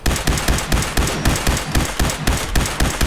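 A grenade launcher fires in the video game Fallout 4, with rapid repeated blasts in a steady, dense rhythm, loud and close, and no voices over it.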